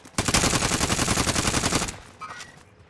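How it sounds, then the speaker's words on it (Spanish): Rapid automatic gunfire in a Warzone battle royale match, a loud sustained burst of dense, evenly spaced shots lasting nearly two seconds, then cut off and followed by fainter scattered noise. "¡Me están disparando!"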